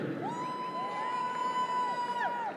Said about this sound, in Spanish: El aplauso que se escuche